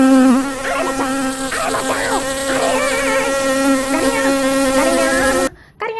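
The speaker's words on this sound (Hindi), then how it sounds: "बहुत सारी मधुमक्खियों ने उस पे हमला कर दिया" A cartoon-style swarm of honeybees buzzes in a loud, steady, wavering drone with shifting pitch, up close and without talk, then cuts off abruptly near the end.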